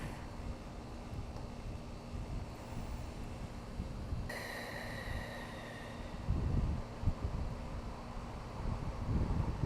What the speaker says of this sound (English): How's that wind?